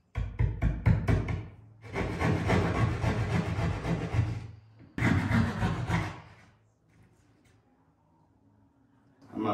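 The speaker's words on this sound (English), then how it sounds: "Now I know I can cut my hole right here." A hole being cut into a wall for outlet wiring during a home theater install: a few sharp taps, then two long, loud stretches of rasping, scraping cutting up close, then quiet.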